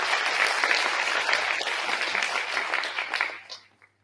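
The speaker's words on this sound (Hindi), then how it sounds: "एक बार जोर से तालियां बजा दें" An audience at a World Environment Day and Menstrual Hygiene Day event claps in a sustained, dense round of applause that tapers off and fades out toward the end.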